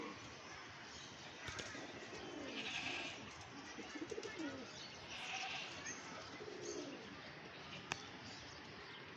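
Soft, low cooing from a pair of pigeons drifts in and out over a steady outdoor hiss, with a few faint clicks and rustles nearby.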